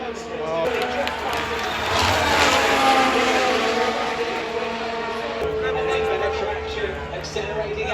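Formula 1 race car accelerating at the British Grand Prix, a rising engine whine with harmonic tones sweeping upward, heard from a distance under an excited commentator's voice and crowd ambience.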